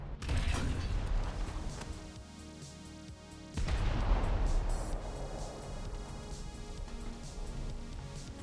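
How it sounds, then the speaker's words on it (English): Tank cannon fire and gunfire in a War Thunder battle on the Fields of Poland map, with deep booming blasts and a sharp shot around the midpoint over a steady rumbling engine and mechanical battle noise. "Looks like someone's shooting."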